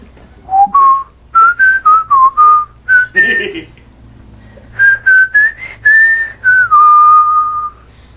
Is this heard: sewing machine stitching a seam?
no